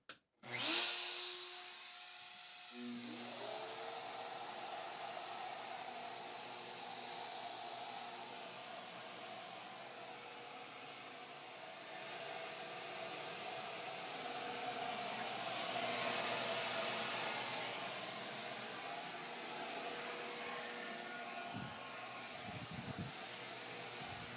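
A CNC router spindle cuts a box joint template at a slow feed, giving a steady, fairly loud whine and hiss that runs throughout, with a brief louder burst near the start and a swell in the middle.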